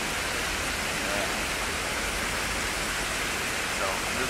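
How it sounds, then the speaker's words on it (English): Steady broadband rush of water pouring into a cooling tower, an even, unbroken hiss like heavy rain that holds constant from start to finish, moderately loud and close. "See, there's always water coming in."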